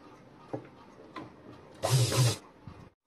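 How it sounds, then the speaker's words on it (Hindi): A sewing machine runs a short burst of stitching over fabric while sewing a dress for a deity picture, a close mechanical whir after a few soft handling clicks. "पलट करके एक बार ऊपर से सिलाई लगा लेंगे।"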